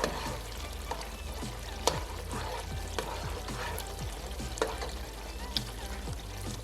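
Tomatoes frying and being stirred in a pot for jollof rice, a soft, low sizzle with regular scraping strokes and occasional spoon knocks under a faint hum.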